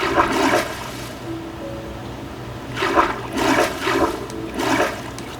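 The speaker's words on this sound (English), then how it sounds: "Sometimes a little water would be pouring out there." Water pours and splashes in a Minecraft beach waterpark, a steady rushing flow that swells in several louder surges toward the end, with no talk.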